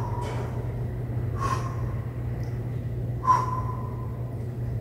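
Three sharp exhalations during a reverse fly exercise, spaced about a second or two apart, close to the microphone over a steady low hum.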